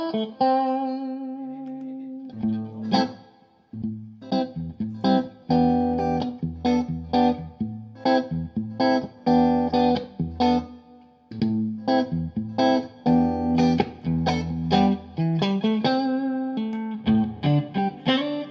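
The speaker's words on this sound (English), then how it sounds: "to make a nice clean sound, I like that kind of power drive. Give me a little bit of reverb" An electric guitar through a tube amp with power drive and reverb plays a lively, rhythmic phrase of chords and single notes, with a warm, slightly driven tone and an audible reverb tail.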